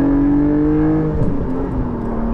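Porsche 718 Cayman GTS 4.0 engine heard from inside on a country road, a loud steady drone that dips briefly as the revs shift, then settles again, with no talking.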